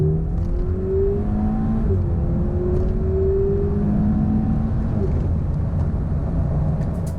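A 2008 Audi TTS with a 2-litre turbo engine and dual-clutch gearbox accelerates hard from 30 to 70 mph, its engine note climbing steadily through quick gear changes, heard from inside the cabin.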